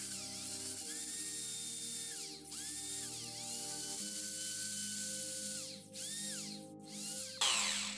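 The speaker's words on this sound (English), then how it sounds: "Now we're gonna swap the drill for the biggest one that I have, which is 10 millimeters, with a thicker hole in the center." A drill with a 10 mm bit bores into a wooden paintbrush handle, giving a steady close whine with shifting, rising pitch sweeps and a sharp burst near the end, with no talk.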